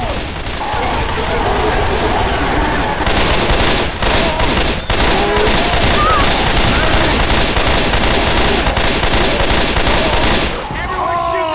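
Sustained heavy gunfire in a co-op survival video game as players open up on a tank, dense rapid bursts of automatic fire running loud and continuous for most of the stretch, with a brief lull near the end.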